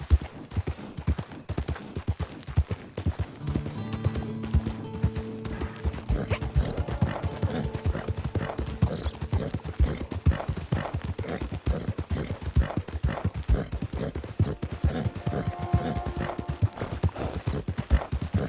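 Steady clip-clop of horse hooves at a quick, galloping pace in the video game Red Dead Online, loud and close, running continuously with faint game-like background tones.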